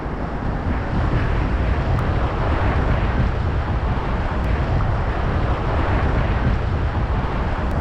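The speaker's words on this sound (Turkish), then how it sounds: "Burada okyanusun dalgaları birbiriyle çarpışıyor" Ocean surf on a Sri Lankan beach, steady and loud, with broad continuous roar of waves colliding and wind buffeting the microphone throughout.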